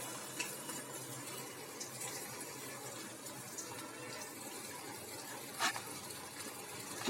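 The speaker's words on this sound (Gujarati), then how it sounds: "તો ચાલો તેલ પણ આવી ગયું છે તો તેને તળી લઈએ" A soft, steady sizzle of sabudana vada frying in hot oil over a low flame, with faint occasional pops and clinks.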